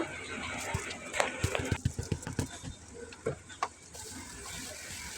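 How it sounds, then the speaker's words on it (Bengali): Washed broken rice is tipped into spices frying in a pot, giving a close rush of sizzling and a patter of grains, followed by stirring scrapes and a soft, continuous fry. "এরপর আমি ধুয়ে রাখা খুদের চালগুলো দিয়ে দিব।"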